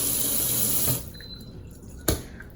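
Tap water runs steadily from the faucet into a deep kitchen sink for about a second, then shuts off, leaving a quiet room with one sharp knock.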